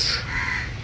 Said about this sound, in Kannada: ಇಲ್ಲೆಲ್ಲ ಕಾಗೆಗಳೇ ಜಾಸ್ತಿ ಯಾಕಂದರೆ ಮೀನು ಜಾಸ್ತಿ ಇರುತ್ತಲ್ಲ